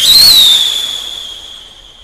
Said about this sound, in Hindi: अब हम टेस्ट करने वाले हैं इस वाले बड़े रॉकेट को आखिर में